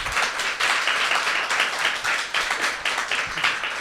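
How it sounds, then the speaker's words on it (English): Steady audience applause fills a room after a business talk, dense overlapping claps holding at an even level for several seconds with no voices over them. "Let's give Miko a round of applause"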